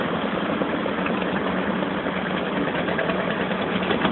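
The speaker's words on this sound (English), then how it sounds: "This, my friends, is a real water pump." A vintage engine-driven water pump runs at a machinery rally, a steady, close, chugging engine drone with a rough vibrating texture, holding even for about four seconds with no talk.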